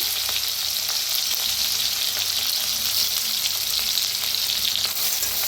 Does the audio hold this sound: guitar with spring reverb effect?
no